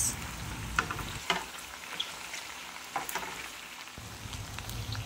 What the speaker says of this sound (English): After adding the bay leaves, I then stir the ingredients.